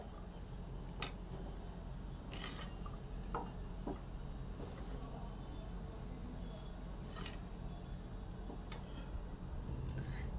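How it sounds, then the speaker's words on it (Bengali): Dal puri filling with roasted ground spice is stirred in a pan, giving soft scraping and clicking strokes over a low, continuous sizzle, with a few louder clinks of the spoon. "এবার ভালো করে মিশিয়ে নেব।"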